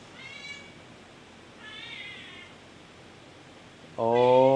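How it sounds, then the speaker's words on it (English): A cat meows several times, two higher, thinner calls followed by a louder, closer meow at the end, with quiet room hiss between them. "He's a meowing boy."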